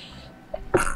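One person sneezes sharply near the end, close and fairly loud, after a soft breathy intake, with faint room noise before it and no clear talk.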